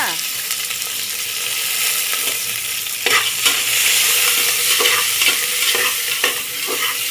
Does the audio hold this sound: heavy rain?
no